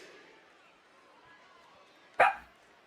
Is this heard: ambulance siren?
no